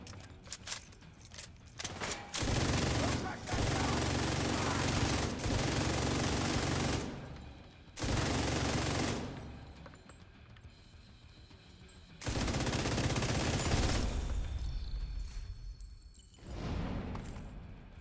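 Loud video game gunfire in sustained automatic bursts lasting several seconds each, separated by short pauses, close and dense with rattling mechanical clatter, with no talking.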